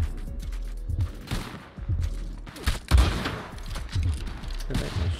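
Several sharp sniper rifle cracks ring out in Red Dead Redemption 2 against a ridge line near the Jameson mine, spaced irregularly over a low rumbling game background, with a few louder shots standing out.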